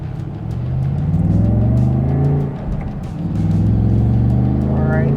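A 2024 Ford Mustang RTR Spec 2 on a warm-up run, its engine droning steadily and loudly up close, dipping briefly midway before building again, with occasional light talk over it.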